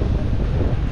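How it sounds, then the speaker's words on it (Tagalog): Strong wind buffeting a microphone aboard a small boat out at sea in the West Philippine Sea, a steady loud low roar with a faint wash of water beneath, no voices. "medyo malakas ang hangin"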